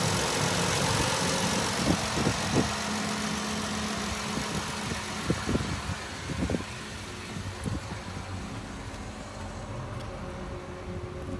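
A 2017 Dodge Journey SXT with the 3.6 V6 idles steadily up close, a smooth low engine hum with a fan whir and a few faint knocks and clicks over it, no voices.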